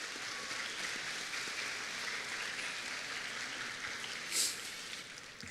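Audience at a junior high school choir's spring concert applauding sponsors, a steady wash of clapping held at a moderate, somewhat distant level throughout.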